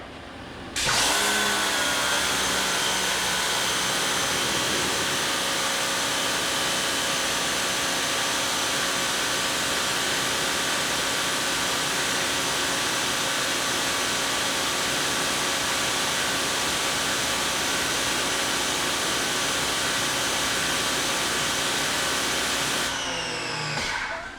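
Electric pressure washer running at 2000 PSI with its stock 15-degree small-orifice nozzle: an abrupt start into a loud, steady whining motor drone with a strong tonal hum, sustained unbroken for over twenty seconds before cutting off.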